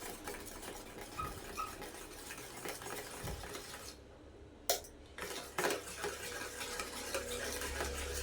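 Omelette batter with pepper and chili powder stirred in a bowl, giving soft rhythmic scraping and clinking of a utensil, with a brief pause and a couple of sharper knocks midway.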